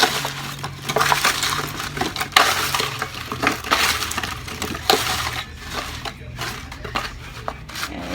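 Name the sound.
breaking up big sugar pieces in a pan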